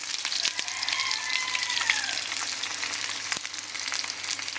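Fish egg paturi wrapped in pumpkin leaves frying in a covered pan, a soft close sizzle with faint crackles and occasional taps, no talking.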